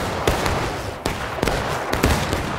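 Musket gunfire during a Civil War reenactment of the Bloody Lane fight, several sharp separate shots at irregular intervals, some near and some farther along the line, with no talk between them.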